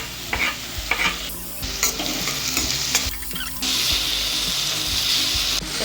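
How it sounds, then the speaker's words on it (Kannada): Tomatoes and about half a spoon of turmeric fry in a hot pan over a high flame, with a steady sizzle and repeated scraping stirs of a spoon against the pan for churumuri. "ಇವಾಗ ನಾನು ಅರಿಶಿನ ಹಾಕ್ತಾ ಇದ್ದೀನಿ, ಒಂದು ಅರ್ಧ ಸ್ಪೂನ್ ಅಷ್ಟು. ಟೊಮೆಟೊನ ಹಾಕ್ತಾ ಇದ್ದೀನಿ"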